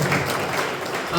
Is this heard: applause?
yes